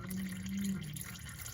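Transmission fluid flushing out of a line on a 2007 Lexus IS 350 during a fluid flush service, a steady close liquid trickle with a low pump-like hum underneath, no talking.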